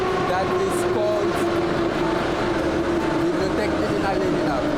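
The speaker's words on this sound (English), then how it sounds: "We are currently waiting for the train that is just arriving behind me to go to the next station" A Moscow Metro train pulling into a station, a loud continuous rumble with a steady whine throughout and a few sharp squeals near the start.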